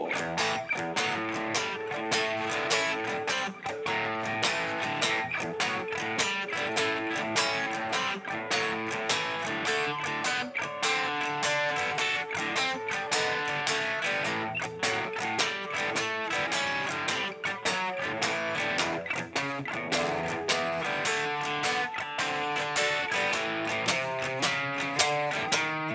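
An electric guitar strums a 12-bar blues rhythm pattern with steady, evenly spaced chord strokes, continuous and moderately loud, played solo without any talking.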